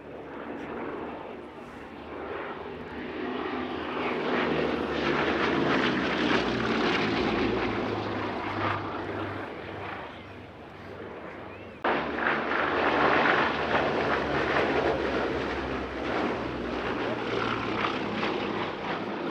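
A Bristol Blenheim's twin piston engines drone steadily in flight at an airshow, a loud, sustained propeller roar that swells and holds as the aircraft passes.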